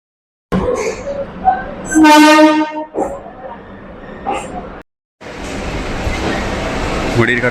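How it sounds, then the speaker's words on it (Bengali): An ICF 24000 series Sealdah–Barrackpore galloping local train departs from a platform at Sealdah with a loud, near horn blast, then a steady rumble of rolling wagons as it gathers speed, with voices nearby. "ট্রেন তার নির্ধারিত সময় থেকে মাত্র 2 মিনিট দেরিতে তার গন্তব্যের উদ্দেশ্যে জার্নি শুরু করলো।"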